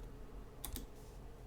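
Two quick, soft clicks of a computer keyboard while typing, close but faint, with no talk.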